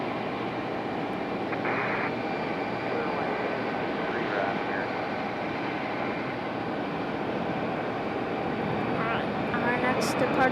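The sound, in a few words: United Express jet departing Raleigh Durham airport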